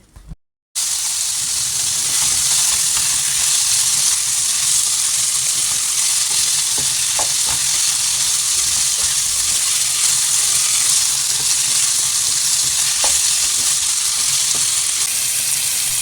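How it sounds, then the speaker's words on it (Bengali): Boiled broccoli with onion and tomato sizzles in a hot pan, a loud, continuous frying hiss that starts after a brief pause and carries on steadily, with occasional soft stirring knocks. "ব্রোকলিটি দেওয়ার পরে খুব বেশি নাড়াচাড়া করা যাবে না, 2-1 মিনিট নেড়েচেড়ে চুলার উপর থেকে নামিয়ে নিতে হবে"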